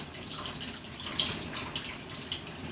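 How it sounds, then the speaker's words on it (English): Cold water running from a tap into a bathtub to thaw pork butts, a steady close splashing hiss with faint drips on top. "you can run cold water into a bath like this"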